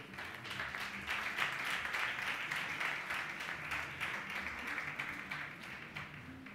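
A church congregation applauds after a scripture reading, sustained dense clapping from many hands that holds steady throughout at moderate distance, with a faint murmur of voices underneath.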